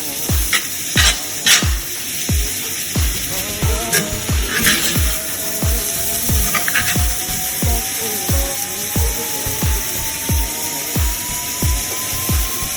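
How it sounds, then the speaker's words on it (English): A utensil scrapes rhythmically against a pan while stirring rice and vegetables, with about two dozen sharp, close scrapes in a steady beat over a soft sizzle, and no talking. "Sorry for the scraping noise."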